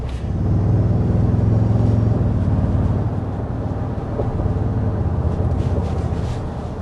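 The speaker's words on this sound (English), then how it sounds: "if you listen to this truck, you may not even realize that it's not a V8" A 2024 Toyota Tundra hybrid pickup truck's engine with synthesized exhaust sound, a deep steady rumbling drone heard from inside or close by, swelling slightly then holding, with no voices.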